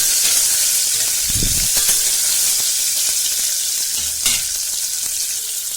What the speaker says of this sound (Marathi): कारले भरलेले आहे ना हे टाकायचे असे तेलामध्ये आणि याची चांगली हलव चालू करायची